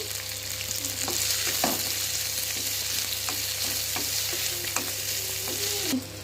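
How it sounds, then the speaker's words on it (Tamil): Salted onions sizzle and crackle in a hot pan while cooking upma, a steady frying hiss with occasional scraping stirs and small pops, heard up close. "இப்போ உப்பு கொஞ்சம் சேர்த்துக்கலாம் வெங்காயம் வதங்கிறதுக்கு வேண்டி."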